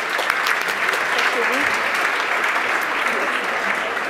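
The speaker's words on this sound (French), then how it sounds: "On peut les applaudir" Audience applauding award winners at an insurance trophy ceremony, a steady dense wash of clapping throughout with a voice talking faintly underneath.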